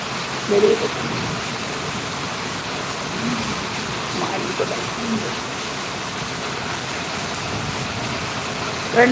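Heavy rain pours steadily during a thunderstorm in Valliyur, a dense even hiss with a few louder bumps that may be distant thunder, heard without talk.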